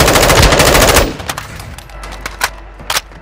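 Automatic gunfire in Call of Duty Warzone 2.0, a loud rapid burst lasting about a second, followed by a few scattered sharper shots and thuds.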